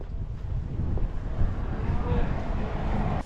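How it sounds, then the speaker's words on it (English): Wind buffets the microphone on an open hilltop hiking trail in the Peak District, a steady low rumbling roar of gusts that swells and dips for the whole stretch, with no one speaking. "It's getting windy."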